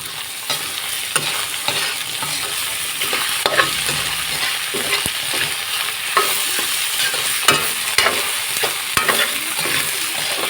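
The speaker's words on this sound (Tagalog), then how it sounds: "ngayon at magigisa na po tayo ng ating sauce" Pasta sauce with hotdog sautés in a pan, a dense, steady sizzle with frequent scraping and stirring clicks from a utensil, close and continuous with no talking.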